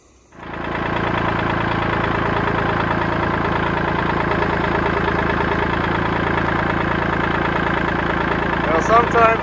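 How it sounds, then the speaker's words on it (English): Outboard motor on a cheap used boat starts up and settles into a steady, loud idle with a busy rattling texture from a loose, jiggling output shaft, running continuously close by. "You can definitely hear that output shaft jiggling down there, but motor sounds solid."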